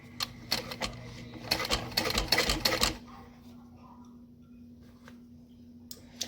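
A sewing machine runs in short bursts while stitching a backpack pocket, with a steady low hum beneath and then a quieter pause, heard close up.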